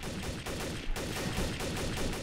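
Rapid gunfire in Trouble in Terrorist Town, a dense rattling burst of shots that continues steadily and loudly for a couple of seconds.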